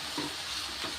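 Slices of bitter gourd (kakarakai) fry in a generous amount of oil, giving a soft, steady sizzle and hiss with faint stirring, quiet and close, with no talk.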